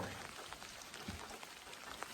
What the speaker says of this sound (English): A little bit of a drizzly rain, not terrible.